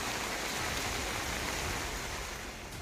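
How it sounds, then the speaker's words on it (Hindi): Heavy monsoon rain and floodwater rush through residential streets in Buldhana, a loud, dense, unbroken roar of water with no voices. "गलियों में पानी की तेज धारा फूट पड़ी।"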